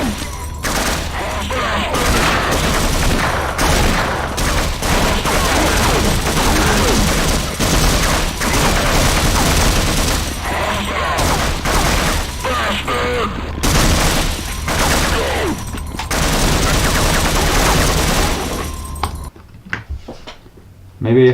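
Soldiers shooting each other in a Half-Life demake video game, rapid bursts of gunfire and sharp bangs clustered densely for most of the stretch, loud and close, with a speaking voice in places, ending in near silence.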